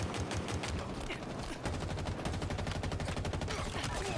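Rapid automatic gunfire in Halo Infinite multiplayer, with dense bursts of shots rattling almost continuously, a short lull partway through, and game sounds layered underneath.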